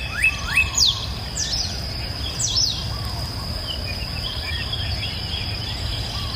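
Small birds chirp in quick bright bursts over a steady hiss of insects or crickets, the calls clustered early and then thinning out over a constant outdoor background.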